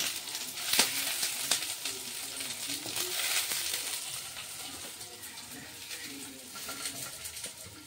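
Onions and capsicum frying in a kadai for kadai chicken, a steady soft sizzle with scattered crackles and a few stirring clinks, with faint background sounds throughout.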